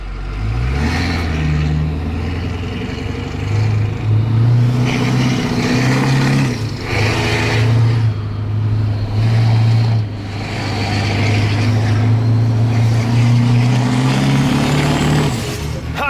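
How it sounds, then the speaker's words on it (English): A car engine rumbles loudly up close, its exhaust droning and swelling as it revs up and eases off several times. "Does anybody else do the same thing when they're in tight confines so they can hear their exhaust?"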